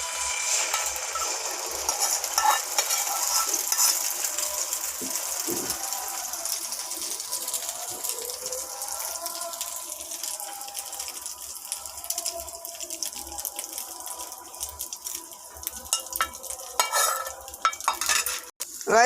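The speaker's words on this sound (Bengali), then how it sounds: "দিয়ে ডিমটা দিয়ে দিচ্ছি।" An egg frying in hot oil in a pan, with a continuous bright sizzle and crackle mixed with scraping and stirring noises, louder at first and thinning out toward the end, with a few sharp clatters near the close.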